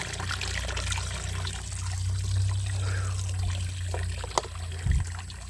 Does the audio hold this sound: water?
yes